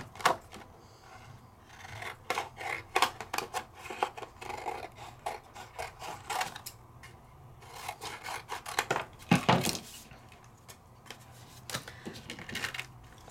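Paper cardstock being cut for a Pergamano vellum card, a steady series of close, dry rasping and rubbing strokes with irregular snips, one louder burst near the end, no voices.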